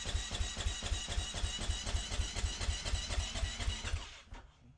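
Husqvarna 501 FE dirt bike with an FMF 4.1 titanium exhaust running loud and close, a steady rapid engine pulse throbbing throughout before cutting out abruptly near the end.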